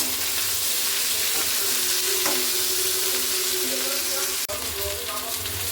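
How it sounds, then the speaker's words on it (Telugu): Okra frying in hot oil in a pan for a simple home-style okra fry, a steady close sizzle with a brief clink partway through. "ఆయిల్ అయితే హీట్ అయిపోయింది బెండకాయ వేసుకుంటాను"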